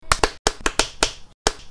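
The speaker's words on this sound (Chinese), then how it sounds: "帮你拍手。" A person claps their hands seven times nearby, sharp, loud claps in a loose, uneven rhythm with short gaps between them.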